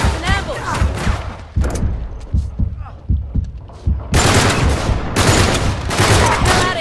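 Gunfire in Uncharted 3: Drake's Deception, with loud bursts of shots and heavy thumping impacts, heavy bursts at the start and a dense sustained barrage in the last seconds, mixed with game sound and voices.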